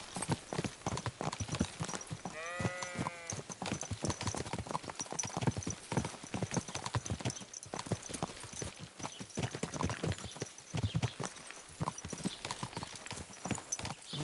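Horse hooves clip-clop in the video game Mat Simulator, a rapid, close, steady stream of hoof strikes on a hard road, with a brief whinny-like cry early on.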